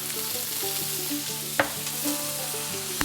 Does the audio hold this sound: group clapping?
no